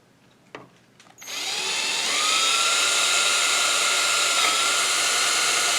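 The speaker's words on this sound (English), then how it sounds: "we got an opportunity to drill a pilot hole right here" A couple of faint taps, then a power drill whirs up and runs steadily at high speed drilling a pilot hole through plastic on a Chevy Colorado grille, loud and close, without any voices.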